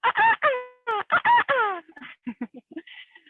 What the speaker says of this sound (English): Here's our California state bird, the California quail.